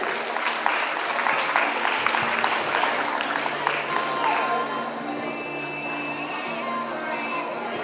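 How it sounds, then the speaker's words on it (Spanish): A quinceañera crowd claps for Oscar Gómez Vázquez during a toast. Brisk, dense applause near the start slowly thins and fades into murmuring and light room noise. "Fuerte, fuerte el aplauso, a ver que se escuche"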